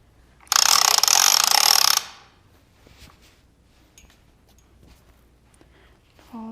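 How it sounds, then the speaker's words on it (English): The ratchet on a quilting frame machine clicks rapidly and loudly for about a second and a half, then gives way to quiet handling noises and faint taps. "make sure your machine is ratcheted, because that's an important part there"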